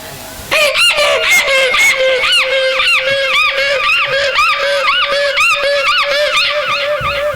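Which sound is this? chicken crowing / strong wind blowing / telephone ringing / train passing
chicken crowing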